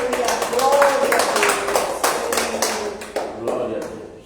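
A church congregation clapping their hands together in a steady rhythmic beat, dense and close, while voices speak over the clapping.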